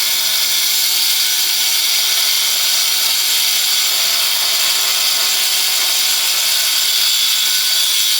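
A power tool wet sanding and polishing tile cut-ins in a bathroom remodel, a loud, steady, high-pitched whirring grind that runs unbroken and close up.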